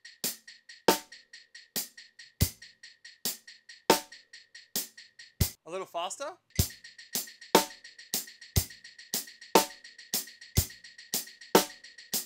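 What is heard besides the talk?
loped hi-hat drum beat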